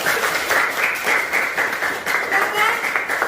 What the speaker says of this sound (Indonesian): Sekali lagi aplaus buat kelompok yang luar biasa.